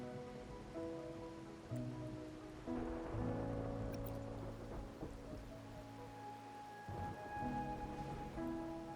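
Rain falls in a video game as a soft, steady patter beneath sustained musical tones and low rumbles, quiet and continuous with no talk.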